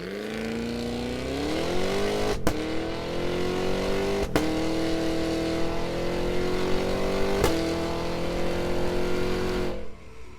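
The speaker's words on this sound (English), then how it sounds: "Cadillac also released a teaser video, providing a chance to listen to the sound of this powerful engine." Cadillac Escalade V engine revving steadily and loudly, pitch climbing early and holding high, broken by three sharp gear-shift-like cuts before dropping away at the end.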